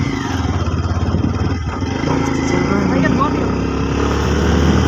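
A motorcycle rides through thick monsoon-season mud, its engine droning loud and close with a steady pulsing throb that builds slightly, while riders talk over it.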